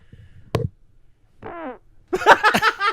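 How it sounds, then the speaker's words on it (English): A single loud fart blown straight into a microphone, close and abrupt, followed by a brief moaning sound and then loud laughter and voices. "took the mic down to his pants and farted into the mic"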